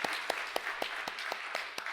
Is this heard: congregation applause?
yes